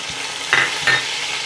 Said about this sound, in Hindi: मैं डाल दूँगी हरी मिर्ची और टमाटर।